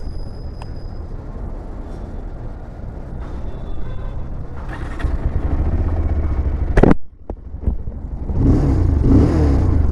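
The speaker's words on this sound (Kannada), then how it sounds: "ಎಕ್ಸಾಸ್ಟ್ ಸೌಂಡ್ ಈ ಥರ ಕೇಳಿಸುತ್ತೆ." Bajaj Pulsar 220F motorcycle, 2026 model, running close by with a steady low exhaust rumble that swells in revs, a sharp clack near the middle, then builds again toward the end; no talking.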